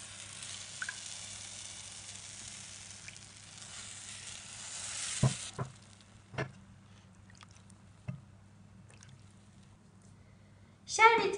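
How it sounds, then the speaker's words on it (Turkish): Cold sherbet syrup is poured over a hot, freshly baked dessert, giving a steady soft sizzling hiss for about five seconds, followed by scattered small clicks and pops. "Şimdi hazırlamış olduğum şerbeti sıcak tatlının üzerine döküyorum."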